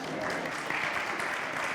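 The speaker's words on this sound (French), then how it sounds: "Je demanderai à Nathalie Locke de nous rejoindre sous vos applaudissements également." Steady, dense audience applause at a hydrogen energy conference, a continuous mid-distance patter of many hands as the next speaker is invited up, with no break.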